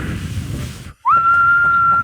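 A person whistles one sustained, steady tone by sucking air in, close and loud, following a short burst of indistinct noise and a brief silence.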